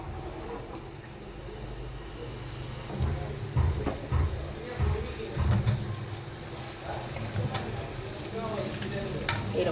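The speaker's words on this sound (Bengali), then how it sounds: "আমার কিন্তু চিকেন পকোড়াগুলো সব ভাজা হয়ে গেছে" Chicken pakoras deep fry in oil with a constant close sizzle, which grows busier and louder after a few seconds as stirring and bubbling bursts join in.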